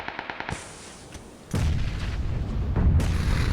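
A grenade explodes in PUBG: a quick series of light gunshot pops gives way to a loud, sustained blast and rumble that swells again near the end.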